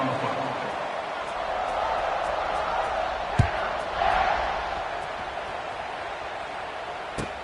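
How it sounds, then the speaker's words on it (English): A stadium crowd in the College Football 26 video game, at a Texas versus Baylor kickoff, roars as a broad, swelling murmur under a commentator's voice, with a couple of sharp thuds. "this crowd now ready to get behind them"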